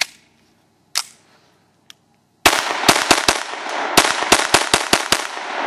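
A Ruger 22/45 MKIII .22LR pistol fires: a few isolated early shots, then a rapid string of about ten sharp, loud cracks in quick succession.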